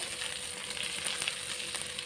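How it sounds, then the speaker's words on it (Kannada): Green chili, curry leaves and grated ginger fry in hot tempering oil for masala idli, giving a steady, close sizzle that crackles faintly throughout with no voices. "ಇವಿಷ್ಟನ್ನು ಹಾಕ್ಕೊಂಡು ಒಗ್ಗರಣೆಗೆ ಹಾಕಿ ಫ್ರೈ ಮಾಡೋದು."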